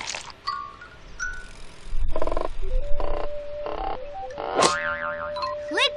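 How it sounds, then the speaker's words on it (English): A tree frog croaks in the 2002 PC game Dora the Explorer: Animal Adventures, a series of short springy croaks and boing-like calls spread over several seconds with a cartoonish tone. "Cool, it's the tree frog."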